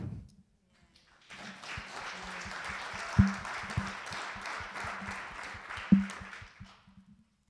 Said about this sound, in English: clap for the kids and clap for Catherine